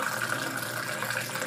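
A cocktail of 99 Bananas, coconut rum and pineapple juice poured in one steady, continuous splashing stream for a second and a half, close and fairly loud.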